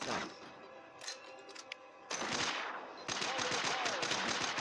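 Sustained automatic gunfire during a boss fight in Mass Effect Infiltrator on Android, with dense rapid bursts that grow louder and more continuous toward the end, mixed with mechanical ticks and other game effects.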